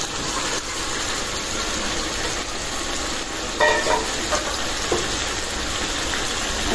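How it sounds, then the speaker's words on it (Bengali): Steady hiss of chicken curry frying in a pan, broken by a few brief louder clatters and splutters as fried potatoes are tipped in and stirred. "এখন দিয়ে দিব এই যে ভাজা রাখা আলুগুলি।"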